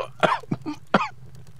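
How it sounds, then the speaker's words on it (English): A character in the Deus Ex video game coughs in three short, harsh bursts with brief gaps between them, close and clear over a faint low background hum. "I brought you something for that cough."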